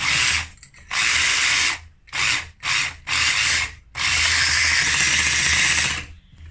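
An electric hand mixer whirs loudly through eggs and sugar in a bowl, running in several close bursts with brief pauses between, ending in one long steady beating stretch.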